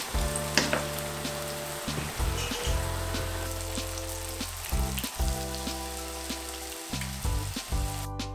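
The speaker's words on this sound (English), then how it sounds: "I think mine are frying up too fast or like too much." Tofu fries in a pan with a steady close crackling sizzle, broken by brief pauses and bursts of bubbling, accompanied by a low hum, with no voices.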